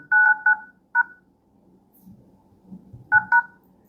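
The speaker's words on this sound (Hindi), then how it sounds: "अब आते हैं डायल पैड में और यहाँ पर मैं वो कोड एंटर कर देता हूँ" Dial pad tones from a Realme C100i phone as a code is keyed in: a quick group of three beeps, a lone beep, then two more, each crisp and close, with faint handling noise in the gaps.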